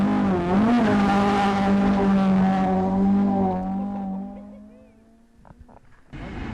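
A rally car at a stage of the Jersey Rally spins out, its engine howling loudly up close and then winding down as the car slides to a stop, leaving a quiet gap before noise returns.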